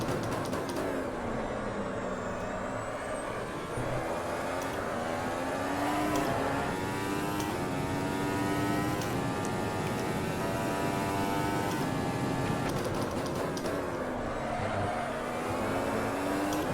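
A race car lapping the Montreal circuit in a driving sim, its engine note climbing and dropping steadily through gear changes, a continuous close whine and roar with no pauses.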